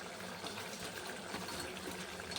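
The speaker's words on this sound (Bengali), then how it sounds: "তারপরে হালকা একটু জল দিয়ে দিলাম" Water is poured into a pan of spicy amudi fish curry, a steady close rushing gush that runs evenly throughout with no one speaking.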